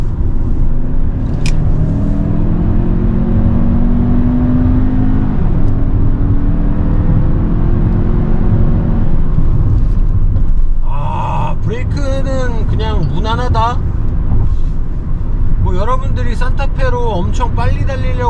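A Hyundai Santa Fe 2.5 turbo front-wheel-drive SUV drones on the road from inside the cabin, its engine pitch climbing through several rising sweeps before easing off, while someone talks over the engine noise in the later part.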